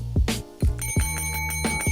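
A hotel desk bell is struck repeatedly, each ding bright and sharp with a ringing tail, the hits coming at uneven intervals and overlapping as the earlier rings fade.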